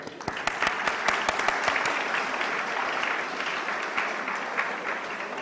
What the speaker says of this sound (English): Ladies and gentlemen, they all deserve a big round of applause. Please give them a big hand.